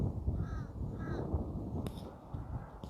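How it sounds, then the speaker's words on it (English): Crows perched in a tree give a few harsh caws, two clear calls in quick succession followed by a later one, set against a low rumbling outdoor background. "We got crows."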